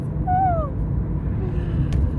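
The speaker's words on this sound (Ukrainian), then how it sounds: "Клас, чайки, чайки." Gull calls at the North Sea coast in Zeeland, the Netherlands: a couple of short, rising-falling cries near the start over a steady low rumble of wind and surf, then faint, sparse calls further off.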